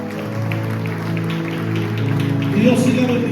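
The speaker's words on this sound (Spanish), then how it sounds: "Den ese aplauso bien fuerte a Jesús" A church congregation applauds for Jesus, a dense, steady wash of clapping that swells louder toward the end, with voices mixed in underneath.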